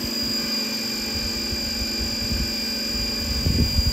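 A pressure washer sprays down a grimy bird bath outdoors. Its motor gives a steady, close droning hiss that runs throughout, with a brief louder burst of spray near the end.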